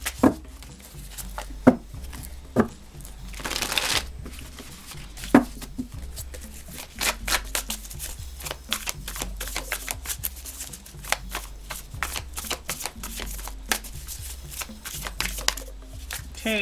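Tarot cards being shuffled by hand, a long run of quick crisp riffles and soft slaps with a steady patter, close and fairly quiet, no talking.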